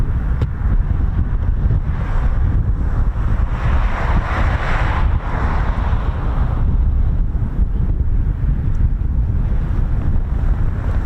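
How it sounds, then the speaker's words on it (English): Strong wind roaring and buffeting across an open airfield at RAF Mildenhall, a steady loud rush of gusts over the microphone with swelling surges, and a flag flapping somewhere within the din. "See how windy it is."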